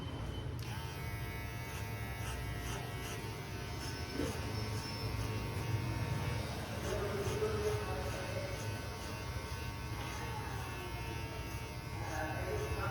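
Electric hair clipper fitted with a 4.5 mm guard trimming hair on the side of the head, a steady close buzzing hum that runs throughout while someone speaks over it.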